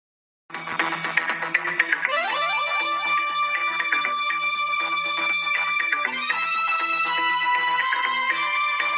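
A phone rings with a melodic ringtone tune that starts abruptly and plays loud and continuous, its repeating notes ringing alone without talk.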